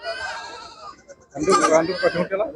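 Karoli goat with two kids at a market, bleating in short harmonic calls, first a thinner cry then a louder, rougher burst near the end, with voices in the background.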